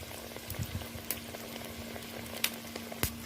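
Besan-battered sandwich pieces, seasoned with salt, chili and turmeric, bubble and sizzle softly in hot oil, a low steady crackle with occasional sharper pops.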